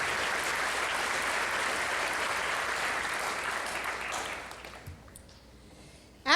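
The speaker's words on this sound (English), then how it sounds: "Let's give them a round of applause." Audience at a high school graduation applauds in a dense, sustained wash of clapping that fades out after about five seconds, leaving scattered claps.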